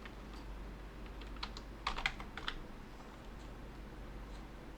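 A product name is typed on a computer keyboard while entering stock in shop software: a short, quiet cluster of clicky keystrokes sits over a steady low hum.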